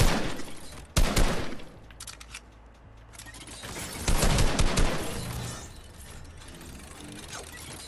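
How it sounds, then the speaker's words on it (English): A sentry fires automatic bursts inside a Fortnite dungeon prison puzzle map, two loud rattling volleys split by a quieter stretch of mechanical whirring, close and harsh with no voices. "There is a sentry on the other side. He's gonna start shooting."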